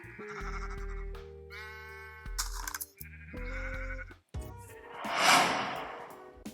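Sheep bleat in a pen on a wool farm in a video game, several close, loud, wavering calls one after another, followed by a breathy snort-like burst near the end.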